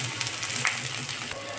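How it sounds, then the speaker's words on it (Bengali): Five-spice, garlic and chopped onion frying in oil for red amaranth greens with eggplant and potato, a short, even, dense sizzle with no talk. "একটু পাঁচফোড়ন দিয়ে দেবো, রসুন আর পেঁয়াজ কুচি দিয়ে দেবো"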